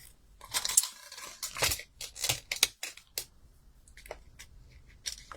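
Scissors cut through designer series patterned paper in short bursts, several crisp snips and rustles close by, separated by brief pauses, with no talking.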